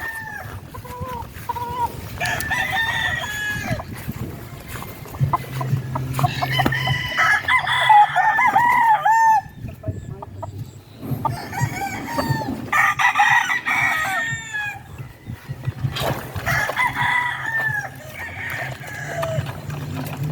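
Breeding hens and broodcock roosters at a poultry farm cluck and crow in repeated bursts, loud and close, with overlapping calls over a low background murmur.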